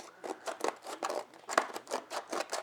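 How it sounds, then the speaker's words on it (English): Scissors snip again and again through the plastic packaging of a Sony PSP Go case, making a close, rhythmic series of crisp cuts. "I found that scissors are the best way to open these things"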